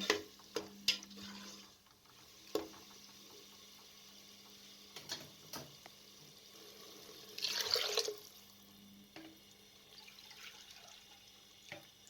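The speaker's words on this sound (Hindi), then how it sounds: "और तकरीबन 3 गिलास पानी शामिल कर दें।" Water splashes briefly into a pot of frying moong dal and spices in a short burst, with a few clicks and knocks around it in a quiet room.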